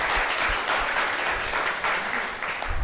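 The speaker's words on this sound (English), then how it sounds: "Give yourself a round of applause" An audience at a NASA Space Apps Challenge event in Islamabad breaks into steady, continuous applause, a loud wash of many hands clapping throughout.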